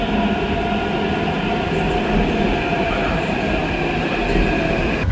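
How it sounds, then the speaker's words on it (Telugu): Metro train at Malakpet metro station in Hyderabad, a loud, steady rumble and rolling hum of railcars passing close by, with no pauses. "మలక్పేట్ మెట్రో స్టేషన్ దగ్గర ఉన్నా."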